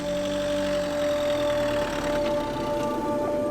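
Campervan engine labouring up a snowy hill on tyres without winter rubber, a steady mid-pitched drone with a slight knocking roughness that holds throughout, near and alone.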